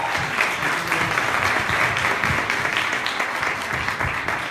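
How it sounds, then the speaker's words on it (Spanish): Audience applause at a live charity event, dense continuous clapping close by that holds steady for several seconds with no voices over it. "Rosy, que vamos a darle un fuerte aplauso"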